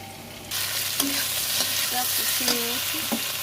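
Three chopped tomatoes hit hot oil in a pan for Bengali aloo paneer curry, starting with a sudden loud sizzle that holds steady while a spoon stirs and scrapes, with a quiet voice in the background.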